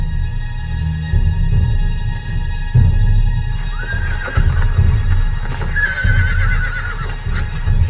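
Horses in the Namib desert near Aus and the Garub well, whinnying in repeated high calls over a steady bed of low hoof thuds and shuffling, fairly close and loud throughout.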